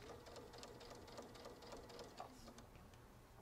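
A Baby Lock Solaris sewing machine runs quietly with a steady, soft mechanical whir and rapid stitching patter, no talking over it.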